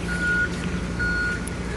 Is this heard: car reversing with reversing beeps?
yes